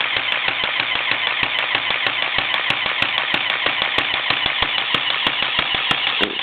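A small Lego-built automatic air compressor runs steadily up close, its motor and piston chugging in a fast, even rhythm of sharp mechanical ticks over a continuous whir, with no talking.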